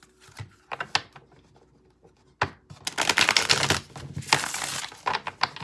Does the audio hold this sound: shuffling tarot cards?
yes